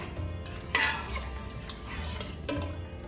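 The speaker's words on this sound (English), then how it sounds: "And mix this well, medium low flame. Stir it" Parippu payasam, a Kerala lentil pudding, being stirred in a pan over a medium-low flame, with soft scraping and clinks of the spoon against the pan and a faint sizzle underneath, no voices.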